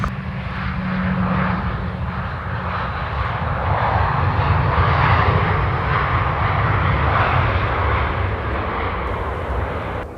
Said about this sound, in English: going across your screen right now is a Beluga, the big Airbus carrier plane.